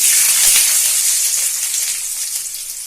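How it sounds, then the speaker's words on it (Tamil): Sliced onion drops into hot oil in a home kitchen for spicy chilli bajji, giving a loud, steady, close sizzle and hiss that eases slightly over a few seconds. "இப்போ வெங்காயத்தை நம்ம எண்ணெயோட சேர்த்துக்கலாம்"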